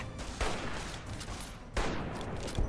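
Two booming gunshots ring out in Fallout: New Vegas, spaced over a second apart, each with a sharp attack and a rumbling decay, set against a low background hum.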